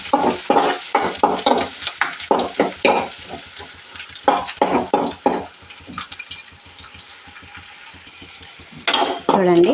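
Onions and cumin seeds fry in a pan for okra curry, a steady sizzle broken by repeated close scraping stirs, loud and continuous with no talk.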